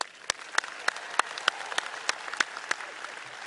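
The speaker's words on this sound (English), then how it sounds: "Let's give them a round of applause." Commencement crowd at UT Austin's 2019 university-wide ceremony applauding, a dense wash of clapping with sharp individual claps standing out, sustained and fairly close.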